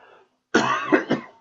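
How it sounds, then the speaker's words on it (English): A single harsh, close cough with a couple of rough bursts, following a brief moment of quiet. "Hold on, I got a cough."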